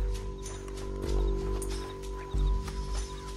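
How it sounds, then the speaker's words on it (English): A horse in Red Dead Redemption 2 moves under a continuous low game soundtrack, with a few heavier hoof thuds and clip-clop beats standing out near the middle and toward the end. "Meet the horse."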